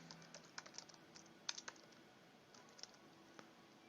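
Quiet typing on a computer keyboard, a run of light irregular key clicks with a few sharper taps, close by in an otherwise still room.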